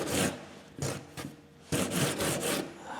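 Filler being sanded by hand with 80 grit sandpaper on a curved block, rolling over a panel edge: three bursts of close, dry rasping strokes separated by brief pauses, with no talking.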